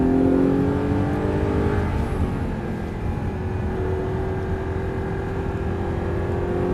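An Audi R8 with a V8 engine pulls hard at full throttle, a steady loud engine drone with rising tones heard from inside or close by, with no talk.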